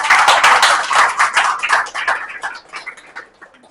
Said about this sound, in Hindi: कुणाल भाई के लिए जोरदार ताली बजे फिर से